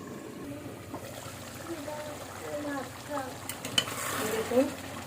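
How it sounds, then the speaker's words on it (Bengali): Desi chicken being stirred and fried in a pan, village-style cooking, with a soft, steady sizzle and occasional scraping stirs that swell louder near the end, under light talk. "মুরগিটা প্রায় কষানো হয়ে গেছে।"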